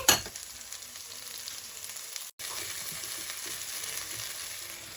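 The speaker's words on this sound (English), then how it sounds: "then we're gonna add our beef as well" Beef frying in a pan with other ingredients being mixed in gives a steady close sizzle with light stirring scrapes. It cuts out for a moment and then resumes at the same level, with no talking.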